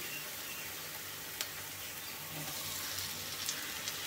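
Onion and chili mixture with tomato pieces frying in a pan, a dense continuous sizzle and crackle throughout, close and even, with a few faint clicks.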